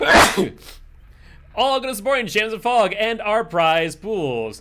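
A single sharp sneeze bursts out loud and close at the start, then a person talks continuously afterward.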